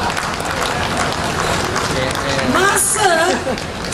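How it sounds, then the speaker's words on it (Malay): A restaurant grand opening audience claps in a dense, even wash of applause. Voices rise over it toward the end, with a brief high squeal near the close. "Tepuk tangan."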